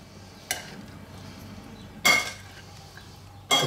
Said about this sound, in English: Right, mix it all up